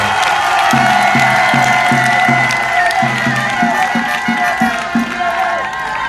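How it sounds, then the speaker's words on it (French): Crowd of supporters at a political rally in Guiberoua cheering and applauding loudly, a dense roar of voices and claps with a rhythmic chant pulsing through it. "Acclamez-vous, applaudissez-vous très fort"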